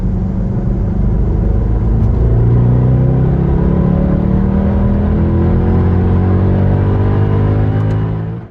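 A Mercedes E63 AMG on a race track lap, its engine a loud, close, continuous rumbling drone with rising and falling pitch as it accelerates through gears, sustained throughout before cutting off at the end.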